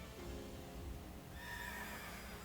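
The horse Spectrier neighs in the video game Pokémon Shield, a faint but clear whinny that rises and wavers in the second half over quiet background sound.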